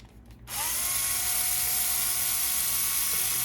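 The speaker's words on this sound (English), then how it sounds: "We're gonna take these 3 screws off too." A power driver whirs steadily and loudly, starting after a brief quiet moment and running without a break, as screws are backed out of the plate on an HPI Maverick Quantum R Flux RC car.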